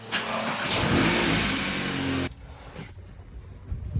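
A BMW with an N55 engine drives past loudly with a revving engine roar, then cuts off abruptly, leaving faint distant traffic.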